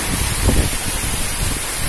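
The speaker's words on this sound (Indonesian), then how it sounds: "hujan deras disertai angin kencang" Heavy rain driven by strong wind in Bantul, Yogyakarta, a steady broadband roar of downpour and gusts with low rumbling buffets, loud and continuous throughout.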